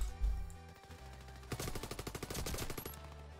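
Rapid automatic gunfire in the shooter game Warface, a burst of about a dozen quick rhythmic shots lasting over a second, fairly close, following quieter game ambience.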